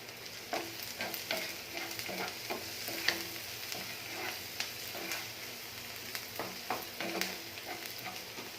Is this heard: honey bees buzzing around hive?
no